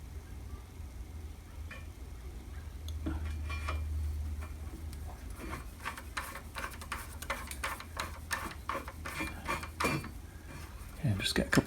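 A bolt threaded in by hand on a drill press during an upgrade of its cooling and side sections: irregular metallic ticks, creaks and scrapes that grow busier toward the end, close and fairly loud over a low hum.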